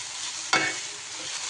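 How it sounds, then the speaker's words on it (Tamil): Palak spinach frying in a pan, a soft continuous sizzle with a single brief stirring scrape near the start, close and fairly quiet. "கீரையை நல்லா நான் கிளறி விட்டுக்கிட்டே வரேன்"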